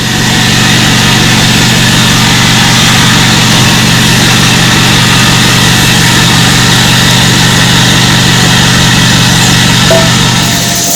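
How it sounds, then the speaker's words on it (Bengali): An automatic 200 kg pasta making plant with a screw conveyor runs steadily, a loud continuous mechanical drone with a low engine-like hum and a fast pulsing beat that holds unchanged throughout, with no voices. "এই যে দেখুন আমাদের অটোমেটিক পাস্তা মেকিং প্লান্ট এটা দুশো কেজির প্লান্ট আছে"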